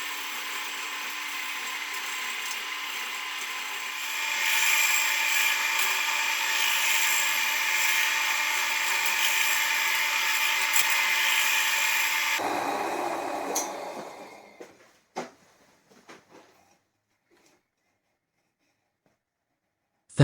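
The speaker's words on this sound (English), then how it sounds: "Back in the lathe. Let's try and sort this end out." A wooden piece spinning on a woodturning lathe while being worked to fix a rough end with voids, giving a loud, steady whirring drone that cuts off, followed by a few knocks and a brief wind-down into near silence.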